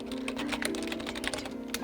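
Rapid clicking of computer keys in a short burst of typing, close and steady over a low hum, with no one talking.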